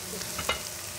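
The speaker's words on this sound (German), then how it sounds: "Jetzt gleich grillen in der Pfanne, die Melone." Melon slices grill in a pan, giving a steady, soft sizzle and faint frying crackle throughout, with a few light scraping or stirring touches.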